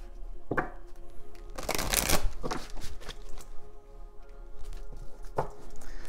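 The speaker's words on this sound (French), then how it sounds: "Je vais bien brasser le jeu." A deck of oracle cards being shuffled by hand, giving a few riffling, brushing bursts with one strong flurry in the middle and softer taps around it, close and alone without any talk.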